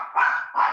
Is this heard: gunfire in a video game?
no